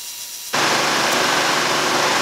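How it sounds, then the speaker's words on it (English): An oscillating belt sander starts up and runs on wood, jumping abruptly from quiet to a loud, steady broadband whir that holds unchanged to the end. "when I get over here to the oscillating belt sander, what I will do is sand up to the line"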